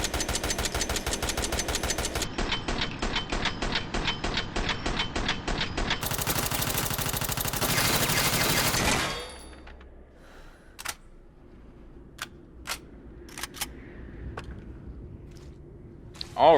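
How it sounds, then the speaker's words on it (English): A P19 submachine gun in Resident Evil 7 fires in loud, rapid automatic bursts that pause briefly and then resume. The shooting ends around nine seconds, leaving a quiet room with scattered sharp clicks and knocks. "Alrighty then, so there's a submachine gun for you. Auto fire."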